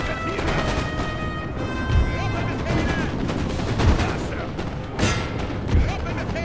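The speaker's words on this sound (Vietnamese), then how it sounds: "Đấu súng thì chúng ta không sợ." Musket volleys crack and boom in a Napoleon: Total War battle, with several sharp bursts near two, four, five and six seconds over a dense, constant din of distant gunfire and battle noise.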